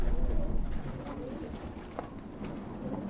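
Pigeons of several breeds coo at a loft while being fed grain, a low continuous murmur of overlapping calls with steady background noise, no talk over it.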